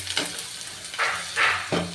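Sliced onions sprinkled with salt fry in a pan, giving a soft, steady sizzle that swells in several short bursts as they are stirred, heard close with no talking.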